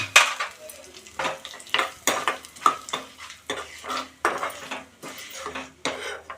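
Curry leaves and asafoetida fry in hot oil in a pan as a tempering for a wood apple chutney, with repeated scraping and stirring strokes of a metal spoon against the pan over a steady low sizzle.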